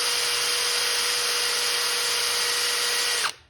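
A power tool with a wire wheel or drill grinds rust off the brake hardware of a 2012 Ford F-150, running loud and steady with a constant high-pitched whine for about three seconds before it cuts off abruptly at the end.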